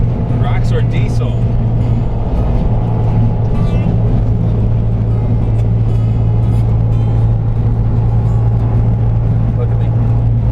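A Roxor, a Jeep-family diesel off-roader, drives off-road, its engine a loud, steady low rumble close by, with talk heard over it.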